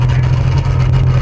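A hill climb racing car, originally built for circuit racing, runs at a steady loud engine drone throughout, close and continuous with a strong low hum.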